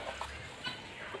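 Local free-range hens in a coop with fresh straw nests make soft, faint clucks, a few short calls spaced through a quiet background.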